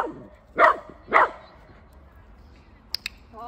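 A dog gives two sharp, close barks in quick succession, followed by a short pause and then a couple of faint clicks.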